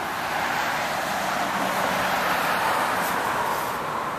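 Steady, even road and engine rumble fills the cabin of a Chevrolet Monte Carlo in good condition as it drives, a constant broadband hum with no breaks.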